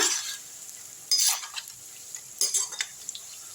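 Bitter gourd pieces deep-fry in oil with a soft crackle, broken by a few louder scraping bursts as a utensil stirs and lifts them.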